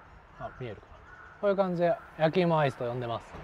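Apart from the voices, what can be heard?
birds calling, crow cawing outdoors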